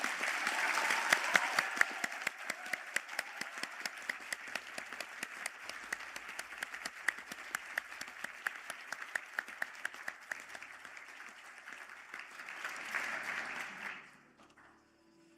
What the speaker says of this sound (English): I now ask the graduates of the Marketing and Sales programs to stand for a round of applause